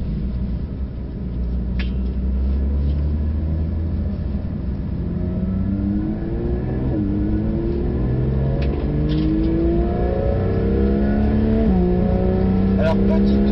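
A Porsche 992 GT3 on a warm-up lap of the Nürburgring Nordschleife, heard from inside as a steady engine drone rising through gears with repeated upshifts, accompanied by tyre and road rumble.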